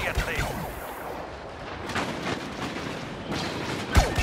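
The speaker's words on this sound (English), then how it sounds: "Watch those red rockets!" Red rockets fire and impact in Star Wars Battlefront 2 (2005), with several punchy blasts and cracks scattered over a busy battlefield din, partly under talk.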